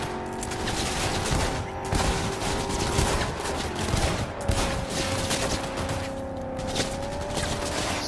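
Gunfire in the video game Cyberpunk 2077 cracks out as rapid, loud, close shots in dense bursts over a constant hum of game music, running through about eight seconds with no talk.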